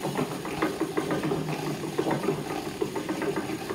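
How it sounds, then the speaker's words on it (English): A spinning wheel spins chain-ply yarn, giving a steady run of soft mechanical clicks and rattles in a quick, even rhythm at moderate loudness, with no voices. "So let me spin this onto the wheel."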